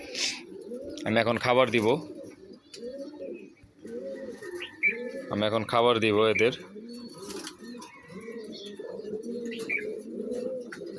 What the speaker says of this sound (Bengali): সব আমাদের এখানে ব্রিডার কবুতর, থরের কবুতর।